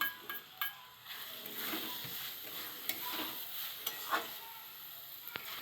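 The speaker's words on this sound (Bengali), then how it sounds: "আমি একটু আলুটা দিয়ে দিচ্ছি আলুটা একটু ভেজে নেবো" Boiled potatoes stirred and frying with spices in a pan, a soft, fairly faint sizzle broken by occasional light clicks and scrapes of a utensil, no voices over it.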